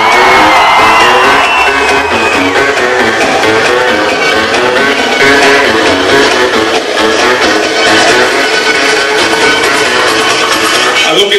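A large crowd at a sonidero dance event in San Mateo Otzacatipan, Mexico, shouts and cheers loudly and without pause, a dense roar of many voices yelling together.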